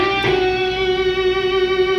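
Electric guitar lick on a Les Paul: a quick picked attack settles into a single long sustained, slightly wavering note that rings clearly and alone for about two seconds.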